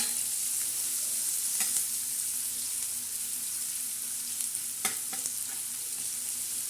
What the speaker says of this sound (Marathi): आता हा कांदा मस्त परतून घ्यायचा असा कांदा गरा हलवून घ्यायचा